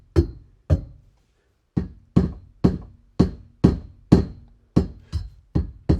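Knocks on the roll cage of a Porsche 996, about eleven sharp, resonant thuds in an uneven rhythm with short ringing tails, close and fairly loud, with a gap near the start and no speech.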